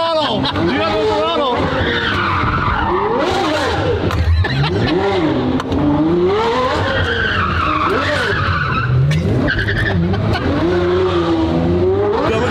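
A drift car revs loudly with squealing tires as it skids, its engine note rising and falling continuously throughout, with excited voices shouting over it.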